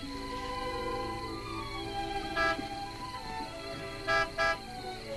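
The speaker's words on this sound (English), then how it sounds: "You know Martin would never honk a horn at a lady." Car horn honks sound in a few short blasts, two of them close together near the end, over a background of music and low ambience; no speech.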